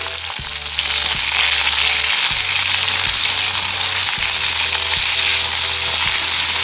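Onion, chilies and fennel fry in a pan for a Tamil quail gravy, giving a loud, steady sizzle that jumps up as ingredients hit the oil, with a rhythmic hum and regular clicks underneath and nobody speaking.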